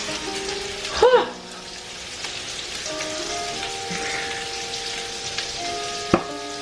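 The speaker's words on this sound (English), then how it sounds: "so I have my sausages sizzling in here" Sausages and garlic frying in a pan, a constant rain-like sizzle with a couple of sharp knocks, one early and one late, and faint background tones; nobody speaks.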